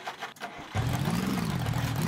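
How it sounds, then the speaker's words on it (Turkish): A car engine starts up in the zombie survival game Survive the Nights, with quiet noise at first and then a steady, fairly loud idle hum that carries on to the end. "Arabanın çalışması bile garip."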